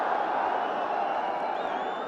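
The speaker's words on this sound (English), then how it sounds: "they are Liverpool supporters to the right as we look, giving warm applause to an old favourite" A football crowd applauds at a 1984-85 Division 1 match between Tottenham and Liverpool, a steady, distant wash of clapping that stays quiet and even throughout.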